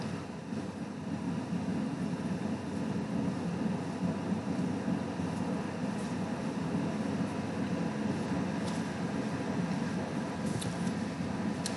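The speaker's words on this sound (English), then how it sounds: "I'm sorry for the noise in the background, that's the aircon." Air conditioning unit running in a loft room, a steady low broadband hum and whoosh that holds constant throughout without any speech.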